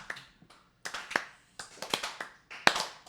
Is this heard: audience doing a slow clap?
yes